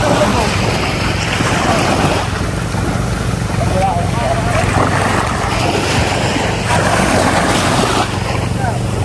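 A boat moving on water, with steady engine rumble, splashing and wind noise, loud and constant, as voices talk over it.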